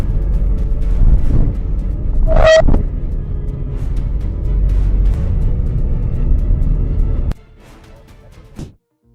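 A car crash on a road right after a lane change, steady loud engine and road rumble with a sharp impact burst early on, then the noise cuts to near quiet and a final thud.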